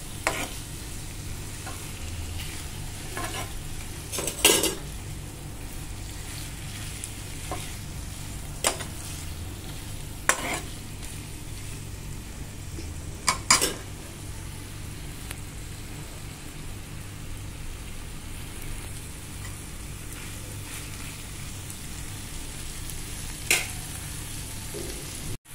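Prawns are stir-fried in a pan for a Konkan-style prawn masala, a continuous crackling sizzle broken by sharp spatula scrapes and clinks at irregular moments, close and moderately loud, with no talking.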